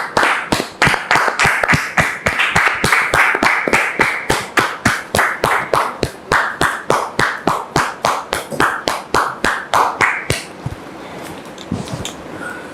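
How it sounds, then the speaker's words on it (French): Studio audience clapping in unison on a French-language television talk show, sharp rhythmic claps landing about three times a second and slowly loosening, loud and close, then trailing off into scattered claps and room tone. "Nous vous demandons, bien sûr, avec votre permission, de la recevoir sous vos applaudissements."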